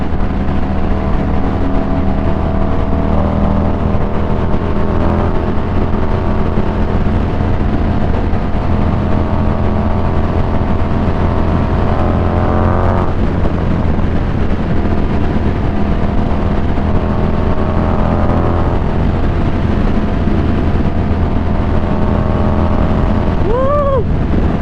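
A motorcycle engine drones constantly during a ride, buried in heavy, roaring wind buffeting the microphone. The engine pitch shifts slightly midway.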